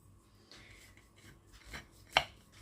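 A knife cuts through a sweet baked pie-casserole made in a frying pan with soft scraping and crunching, ending in one sharper crisp crack, quiet and close.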